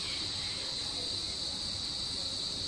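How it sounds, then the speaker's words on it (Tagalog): Crickets chirp at sunset in an overgrown front garden, a steady high-pitched insect drone holding constant and moderately loud throughout, with no talk. "Ang ingay ng mga kuliglig."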